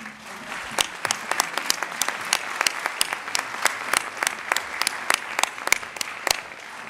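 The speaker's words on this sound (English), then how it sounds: "join us in one last round of applause as these extraordinary young men take a final group bow" Thin, moderately distant applause from an audience greets performers taking a final group bow, with sharp individual claps standing out over a soft crowd bed.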